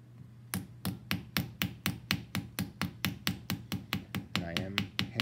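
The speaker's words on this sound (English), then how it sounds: "And I am hammering at a slight angle." A hammer strikes a copper leaf at a slight angle during metalsmithing, about twenty sharp, evenly spaced blows in quick rhythm, close and crisp, with a faint ringing tone near the end.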